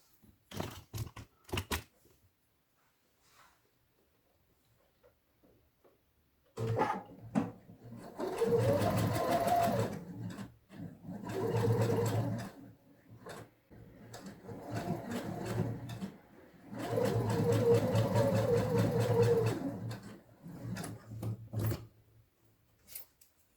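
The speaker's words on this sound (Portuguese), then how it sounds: "Vou passar uma costura aqui na lateral." Domestic sewing machine stitching a side seam on fabric for a makeup case, running in three sustained bursts with pauses between, close and fairly loud, with a few soft handling clicks before it starts.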